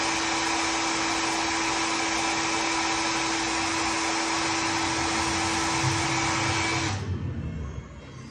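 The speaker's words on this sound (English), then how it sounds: "let's dry that with the hairdryer" A hair dryer blows with a steady, loud whine that cuts off near the end, leaving a faint fading rumble.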